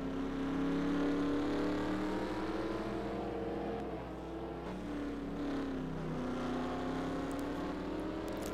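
Race car engine heard onboard during a lap of a tight, technical Mexico track in a stock-car racing game, a steady droning whine that rises and falls slightly through corners, continuous and fairly quiet.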